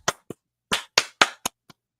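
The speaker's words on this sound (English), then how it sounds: "that same clapping, according to Raheem Morris later on, was what caused the intentional grounding" Seven sharp hand claps ring out in an uneven rhythm, loud and close with silence between, like a quarterback clapping before the snap at an American football game.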